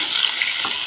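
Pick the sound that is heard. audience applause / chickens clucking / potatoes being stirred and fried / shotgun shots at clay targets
potatoes being stirred and fried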